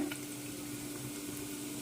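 Chopped onions sauté in hot oil in a pan, turning from translucent to brown, with a steady, close crackling sizzle that holds evenly throughout.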